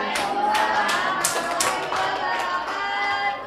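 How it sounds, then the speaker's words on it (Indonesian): Audience applause at an Indonesian workshop on writing an Acehnese oral-tradition documentary script, a steady mid-level patter of many hands clapping for a few seconds with no talk over it. "boleh beri tepuk tangan yang meriah"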